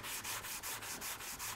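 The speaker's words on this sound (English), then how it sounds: "This is where power sanding really makes things go faster." Wood veneer being power sanded up close, a loud, hissy rubbing noise that pulses in quick, regular strokes, about six per second and a half, with no voices.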